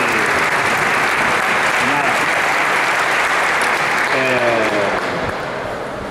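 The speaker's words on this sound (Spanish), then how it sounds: "Un aplauso para las chicas que han estado muy bien" Sustained applause from a gym audience praising the players after a basketball training demonstration, dense and steady clapping with faint voices underneath, tapering off slightly at the end.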